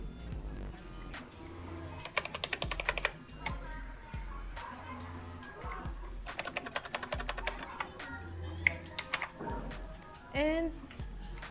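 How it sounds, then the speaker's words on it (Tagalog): Someone types on a K618 Mamba Snake mechanical gaming keyboard, making close, crisp clicks that come in fast runs with short pauses, and a voice speaks faintly behind the keys. "nakikita nyo na maganda yung tunog niya kasi mechanical gaming keyboard nga siya"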